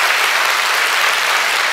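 Applause from a church congregation, a dense, even roar of many hands clapping together, loud and sustained with no break.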